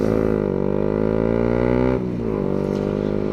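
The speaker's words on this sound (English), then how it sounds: "sounds that obviously I got an aftermarket exhaust on this, which is the Black Widow Stubby" A Yamaha MT125 motorcycle fitted with a Black Widow Stubby aftermarket exhaust idles close and loud with a steady, throbbing drone that dips briefly partway through, then settles back to an even idle.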